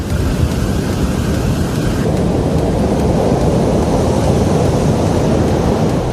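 Rough sea off Mayiladuthurai beach, between Thirumullaivasal and Pazhaiyar, churns under heavy rain and gusting wind, making a loud, steady roar of surf and downpour with wind buffeting the microphone throughout, with no talk.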